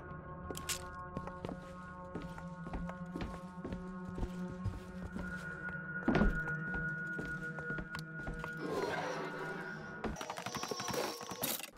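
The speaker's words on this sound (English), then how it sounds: "I love the sound of Booker running on these hardwood floors sped up." Quick, light video game footsteps in Bioshock Infinite patter steadily across a hardwood floor, a brisk running rhythm with a few clunks and a sharper crash partway through.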